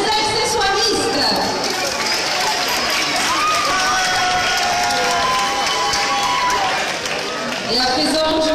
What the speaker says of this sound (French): Je vous demande d'applaudir une fois de plus les accessoiristes.